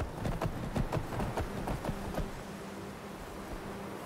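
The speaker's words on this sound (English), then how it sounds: "Walking across this is creepy, but riding a horse is even creepier." Horse hooves clip-clop in a quick, even rhythm while riding in the video game Skyrim Wildlander, loud and close at first, then fading softer toward the end, with no voices.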